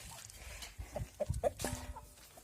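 Several soft clucks and short calls from turkeys sound nearby over a low background murmur, irregular and fairly quiet.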